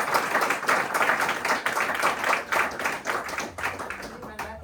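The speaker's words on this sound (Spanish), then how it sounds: "un gran aplauso" An audience at a talk on local sheep and goat breeds breaks into clapping, a dense irregular patter of hands that swells and fades in waves, close and fairly loud, with faint voices underneath.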